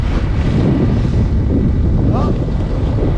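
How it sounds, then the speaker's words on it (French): A 12-knot wind rushes past a sailboat at sea off the Balearics, a loud continuous roar of wind buffeting the microphone with water sounds beneath and a voice faintly under it. "Maintenant qu'on arrive, on a 12 nœuds de vent."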